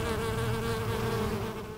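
Bees hum in a dense, continuous drone across a lavender field in Oregon, many insects buzzing close by with no voices.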